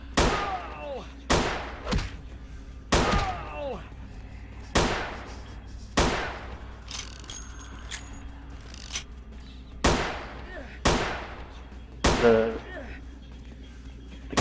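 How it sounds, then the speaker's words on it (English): Slow, evenly spaced gunshots from the Vampire the Masquerade Bloodlines game, a dozen or so sharp cracks with short decaying tails at a low rate of fire, loud and close, with some game voices between shots. "the shooting speed is very low here"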